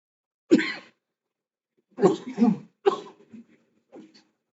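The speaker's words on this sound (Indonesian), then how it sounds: "Maaf, saya lagi batuk." A few harsh, close coughs from a lecturer in separate bursts, one single and then a quick pair, followed by softer throat noises in a quiet room.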